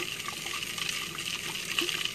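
Water swirls and washes through a soil sample as it is stirred and mixed, a steady soft gushing wash that stays even throughout with no voices.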